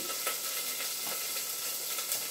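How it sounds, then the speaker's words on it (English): Loud, steady sizzling of Moroccan meatballs frying in a hot pan, a dense crackling hiss with small pops, close up and without talk. "that is sizzling quite hard"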